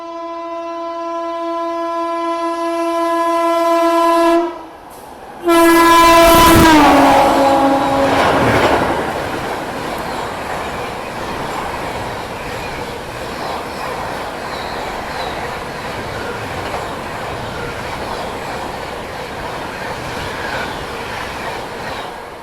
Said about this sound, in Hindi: तो ये खड़ी है अपनी प्रयागराज स्पेशल और सामने से आ रही है गोंडवाना